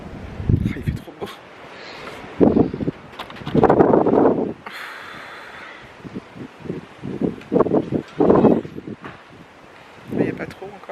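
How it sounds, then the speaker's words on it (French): Small, light gusts of wind move outdoors on a sunny day, rustling leaves in intermittent bursts close to the microphone, with someone talking between the gusts. "C'est des petites rafales là, il n'y a que dalle là."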